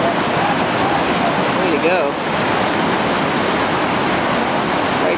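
Whitewater pours through Scales Rapid on the Gauley River at 2800 cfs, a loud, dense roar of rushing water heard close and constant, with a brief voice cheering over it.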